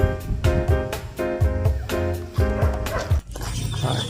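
A dog at a campsite barks repeatedly at close range in a quick rhythmic series with whimpering tones between, loud and clear against faint background noise.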